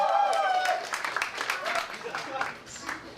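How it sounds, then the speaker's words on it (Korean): Studio audience applause on a Korean variety show, steady clapping through most of the stretch with a host's voice and laughter mixed over it. "응원의 박수를 크게 좀 보내주세요"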